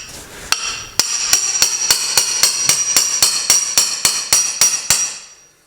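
A bearing is driven out with a hammer while bread is packed behind it: a steady run of about fourteen sharp, ringing metallic blows, close and loud, with no talking.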